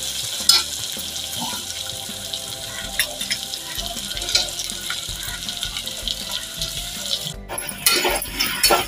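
Onion and tomato being sautéed with green chilli, curry leaves, ginger-garlic paste and whole spices in a pan, a steady close frying sizzle with scattered stirring clatter and a brief dip near the end.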